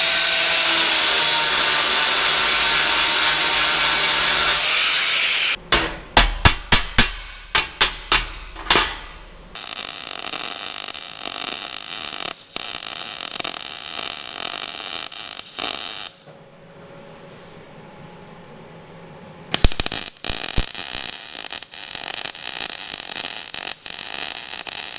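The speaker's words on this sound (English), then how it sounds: "So I'm just going to cut these welds off" Welds being cut off a metal frame with a power tool, a loud continuous grinding whine broken by a burst of sharp rapid clicks and a quieter pause before the cutting resumes.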